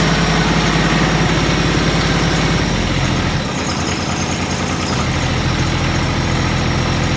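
A glow-plug engine that starts poorly running loud and close, a steady low idling rumble that shifts and roughens midway when throttle is given, then settles back.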